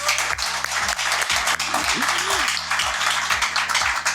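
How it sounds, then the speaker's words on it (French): A room full of people claps continuously while a voice speaks over it, with a low rhythmic hum running underneath. "Je pense qu'on devrait applaudir"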